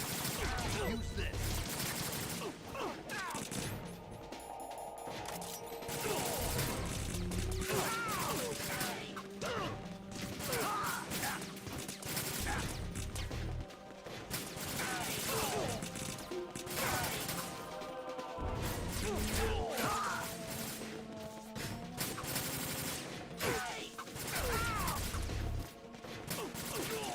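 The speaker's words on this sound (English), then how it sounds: "Flashbang!" A flashbang grenade detonates in the Metal Gear video game amid a dense, loud mix of gunfire-like bursts, crashes and game music, with voices talking over it throughout.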